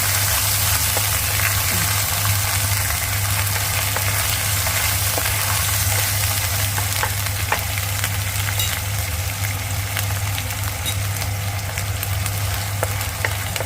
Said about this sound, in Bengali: আদা রসুনটাকে ভালো করে তেলে কষে নিয়ে